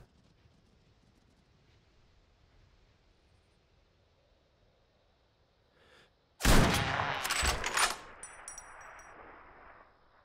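Gunfire in the Deer Hunter Reloaded hunting game: after several quiet seconds, a sudden loud burst of close shots around the six-second mark, followed by a second sharp report and a decaying ringing echo.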